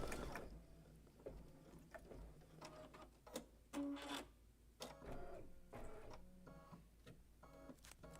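A home embroidery machine stitches a design onto a greeting card, giving a steady run of quick mechanical ticks and whirring needle strokes, close and fairly quiet, with occasional louder clunks and no voices.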